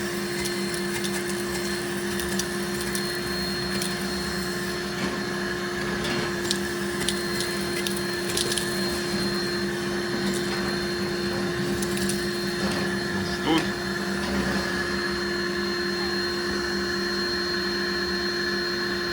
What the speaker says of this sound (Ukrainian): І ось такий у нас пилосос, дивіться.